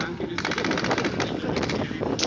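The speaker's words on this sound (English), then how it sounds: "firing with blank rounds towards the tanks" A machine gun fires blank rounds at a NATO Days military exhibition in Ostrava, a rapid rattling burst of shots that runs almost without pause, loud and outdoors.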